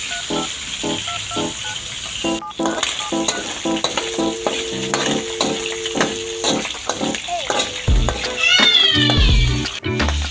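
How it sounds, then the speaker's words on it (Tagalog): Shrimp frying in a pan, giving a steady sizzle with intermittent stirring and scraping clatter throughout, close and fairly loud, with brief higher squeaky sounds near the end. "Lutuin muna ang hipon natin."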